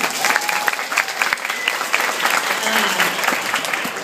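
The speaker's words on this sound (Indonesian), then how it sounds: "Oke, tepuk tangan dulu buat Anda semua." Audience applause at a book launch in Indonesia, a steady wash of many hands clapping together for about four seconds, fairly loud and close, with no voices standing out.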